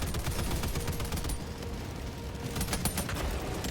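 A Strafing Run airstrike in Helldivers 2 rakes the ground with dense, continuous rapid-fire gunfire, a loud, steady barrage of overlapping shots and impacts with no pause.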